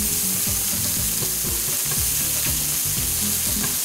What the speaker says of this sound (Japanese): でこの足したオイルのところにアンチョビを半分で、アンチョビを今度は炒めるようなイメージで